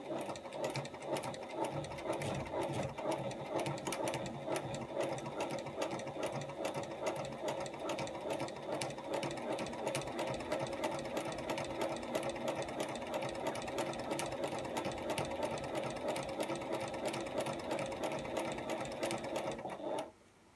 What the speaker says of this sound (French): on fait une piqûre à 1 cm du bord. Pour que les 2 pièces soient bien ensemble